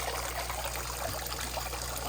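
Water trickling and dribbling steadily into a crayfish pond, a continuous soft splashing flow heard close and alone with no talk.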